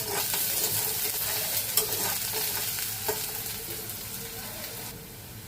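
Shevla vegetable sautéing in a pan with garlic, a steady close sizzle of frying under repeated scraping and stirring strokes, with no talk.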